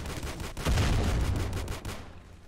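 Gunfire and a heavy burst of friendly artillery in the Roblox game Warfare Battle Simulator, a trench battle: dense, loud rumbling booms swell at the start and carry on as a sustained roar before cutting off, with no talk.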